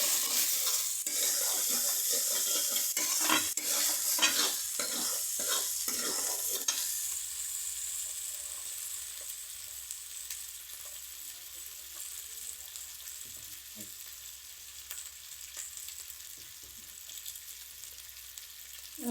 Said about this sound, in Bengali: এবার আমি মশলাটা একবার কষে নেব।